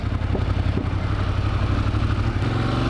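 Ducati Monster 1200 motorcycle engine running steadily close up with a low throbbing drone, quick-shifter gear changes blended into the continuous rumble and a few faint clicks.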